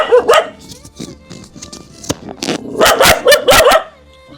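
A dog barks loudly and repeatedly at close range, sharp yips mixed with rough growly barks, the outbursts coming in quick clusters with no pause between them.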